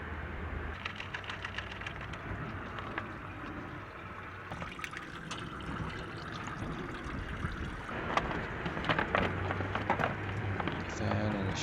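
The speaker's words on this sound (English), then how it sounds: "at the same time, I'll be draining the coolant from the radiator." Coolant drains from the radiator of a Toyota 1GR-FE 4.0L V6 in a steady liquid pour and trickle that runs the whole time, mid-distance, with occasional clinks and handling noises over a low background hum.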